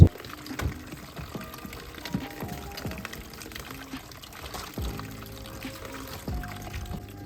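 Water pours steadily while a garden paddling pool is rinsed out beside a pond, a continuous splashing gush with small trickles and gurgles running throughout, fairly close and with no talking.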